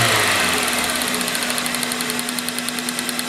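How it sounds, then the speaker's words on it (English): A car engine runs at wide open throttle during an engine-running compression test, giving a loud, steady roar with a rapid pulsing beat and a constant hum, close to the mic. "We'll go ahead and wide open throttle, hold it for just a little bit"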